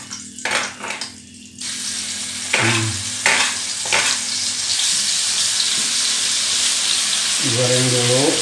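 Ingredients, including chilies, sizzle and crackle in a hot frying pan in a home kitchen, the hiss swelling and holding steady amid a few utensil knocks, with brief voices at the start and end.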